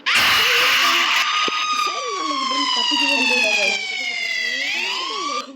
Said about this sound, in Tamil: சைரன் அடிச்சுக்கிட்டே இருக்கான்.